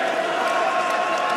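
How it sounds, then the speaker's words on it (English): Arena audience applauding boxers Jason Easton and Steve Jamoye after their fight, a steady dense wash of clapping and crowd noise with a commentator's voice running over it. "Jason Easton, who leads the applause for Steve Jamoye. I hope they both get a standing ovation"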